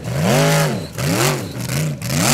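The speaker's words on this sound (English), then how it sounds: "Now Andri Jamel driving the Raptor." A Formula Offroad car in Iceland revs hard on a climb, its engine rising and falling in repeated loud surges, close and alone.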